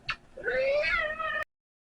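A house cat meows once, loud and close: a brief opening chirp, then a long, drawn-out, wavering meow lasting over a second and ending abruptly, with no talking.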